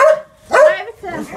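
A dog at a Jamaican home barks twice in quick succession, loud and close, with short yelping barks separated by a brief pause.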